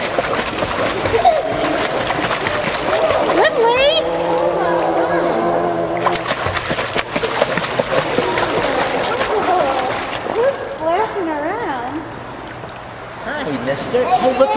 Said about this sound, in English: Can I see my splashing?